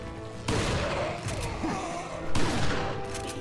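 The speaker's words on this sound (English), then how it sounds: "Get fucking annihilated by a shotgun blast to the face." A shotgun blasts in the Resident Evil 4 video game, with two loud booming shots about two seconds apart and a dense crackling noise of combat in between.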